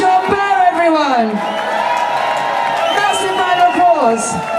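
A live audience at the Truth Be Told London event cheers, whoops and applauds for speakers Mark Sharman and John Bowe, a loud, sustained crowd roar with a voice calling out over it.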